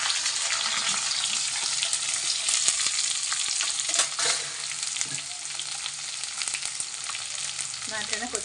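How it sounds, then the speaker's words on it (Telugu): Chopped onions sizzle in hot oil in a pan, a dense, steady crackling hiss with occasional stirring scrapes, fairly close and uninterrupted by speech. "కట్ చేసి పెట్టుకున్న ఉల్లిపాయలు వేసుకున్నాం."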